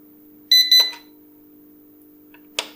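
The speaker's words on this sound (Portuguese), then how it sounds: "Já agora vou-vos mostrar o alarme." A Phasak PH 7521 rack UPS alarm sounds a brief, loud double electronic beep, then falls silent before a short click, over a steady faint hum.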